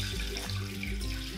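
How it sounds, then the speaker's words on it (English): Soaking water is strained off softened figs for gluten-free cashew oat fig bars, pouring as a steady, close, continuous rush of liquid with no talking. "Once your figs have softened, strain out the water, but then don't throw away the water"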